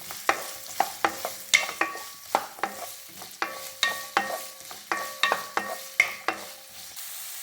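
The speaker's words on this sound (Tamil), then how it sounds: "அதனால் இது நல்லா கொஞ்சம் எண்ணெயில் முதல்ல வறுத்திப்போம்." Potato chunks frying and being stirred in oil with onion, carrot and beans, a steady sizzle broken by regular spatula scrapes against the pan, close and fairly loud, no talking.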